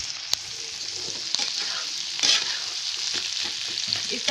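Eggs and chickpeas frying in a pan as they are stirred, giving a steady soft sizzle with light scraping and tapping from the stirring, close by and without talk.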